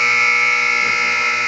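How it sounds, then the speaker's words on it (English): A loud, steady electronic buzzer ending a hockey period blares continuously at close range, a single sustained tone with no pauses. "That's the buzzer to end this first period."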